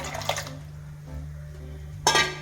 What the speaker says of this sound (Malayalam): കുടംപുളി നമ്മൾ വെള്ളത്തിൽ ഇട്ട് വെച്ചതാണിത് കുടംപുളി ഇട്ട് കൊടുക്കുകയാണ്